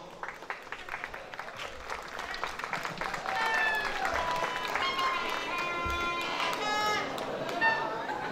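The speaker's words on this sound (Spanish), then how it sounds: "Y le brindamos fuerte ese aplauso." Applause from a crowd at a night-time festival queen pageant, with voices and cheering mixed in, building in loudness partway through and staying steady.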